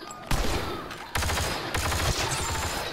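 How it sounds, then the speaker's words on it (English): Weapon fire in a Star Wars Battlefront firefight, with sharp blasts and a thumping grenade launch standing out from a dense, continuous barrage of shots close by. "Launching grenade."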